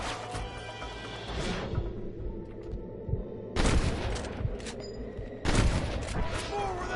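Gunfire in the Red Dead Redemption video game, bursts of rapid shots and booms in two or three volleys over a rumbling game background, with voices talking between them.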